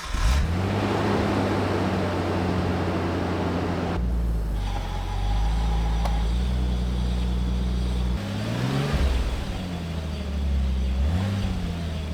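A Nissan R32 Skyline engine idles steadily and loud on jack stands after an AWD clutch install, with a few brief revs lifting the tone partway through and no talking.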